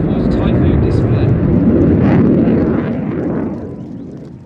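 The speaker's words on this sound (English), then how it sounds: "that was the 2021 Royal Air Force Typhoon Display" A Royal Air Force Eurofighter Typhoon jet in its 2021 flying display at an air festival, a loud broad roar of engine noise that swells and then slowly fades as the jet departs, with speech over it.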